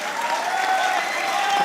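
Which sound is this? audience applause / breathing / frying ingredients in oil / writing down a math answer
audience applause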